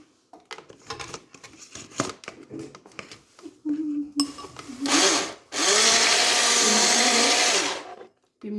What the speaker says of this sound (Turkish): Önce şekerini ve yumurtanı karıştırıyoruz.